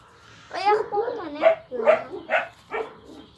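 Kangal puppies whimper and yip in a string of short, high, wavering cries, about six in a row, close by.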